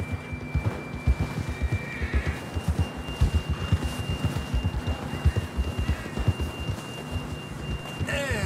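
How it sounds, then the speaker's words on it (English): Horse in Red Dead Redemption 2 neighs while hooves clip-clop in a steady rhythm, fairly close, with a low ambient hum beneath and brief murmurs of speech. "John was riding that horse when we left Blackwater."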